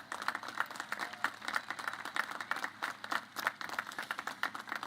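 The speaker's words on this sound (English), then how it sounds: "let's give a big round of applause to the entire faculty and staff" Commencement crowd at the Coast Guard Academy applauding faculty and staff, a steady patter of many hands clapping, fairly distant and soft, with no voices standing out.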